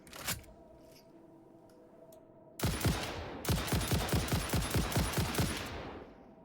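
A rebar gun in Satisfactory fires one loud shot, then after a pause a long steady run of repeated sharp shots at an even pace that tails off at the end.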